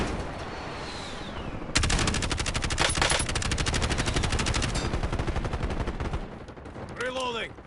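Video game gunfire in Black Ops 6 Warzone: a sustained loud burst of rapid automatic shots lasting several seconds, then quieter ambient battle noise with a faint whooshing effect near the end.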